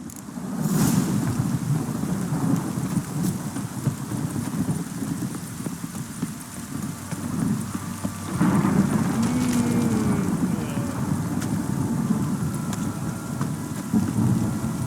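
Steady rain pours throughout in The Witcher 3: Wild Hunt, with horse hoofbeats clopping and low rumbles beneath; no one speaks.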